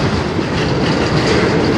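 A CN freight train passes close by on the Strathroy Sub, a loud dense continuous roar of rolling wheels filling the whole short stretch without pause.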